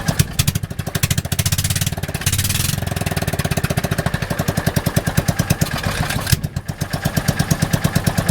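A John Deere Gator 4x2 engine runs with its intake and muffler removed, giving a loud, raw, rapid chugging idle with a steady pulsing rhythm and slight rises in speed, heard up close with no talking.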